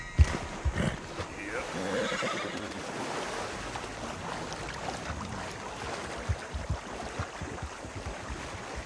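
A horse in Red Dead Redemption 2 whinnies near the start amid game ambience, with hoof clops and someone talking intermittently over the scene.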